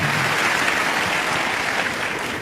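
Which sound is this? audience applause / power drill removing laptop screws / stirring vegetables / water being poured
audience applause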